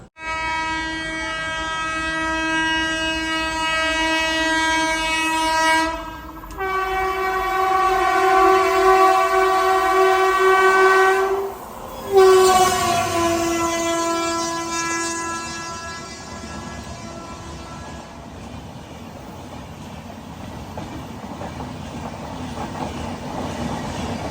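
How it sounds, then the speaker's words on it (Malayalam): A Rajdhani Express overtakes on the adjacent track near Kuttippuram, its loud sustained horn blaring in long tones with a brief break, then fading into the rumble and rattle of passing coaches heard from inside a moving train. "ഇപ്പോൾ കുറ്റിപ്പുറത്ത് വെച്ച് നമ്മുടെ വണ്ടീനെ ഈ ഒരു ട്രെയിൻ, അതായത് രാജധാനി ഓവർടേക്ക് ചെയ്യുകയാണ്"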